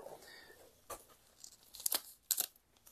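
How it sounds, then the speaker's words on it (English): Tape being torn off the packaging of a plant being unboxed: faint, close ripping and crinkling in several short bursts, the loudest two coming near the end, with no speech. "So you want to make sure you're going to remove the tape so you can pull it out."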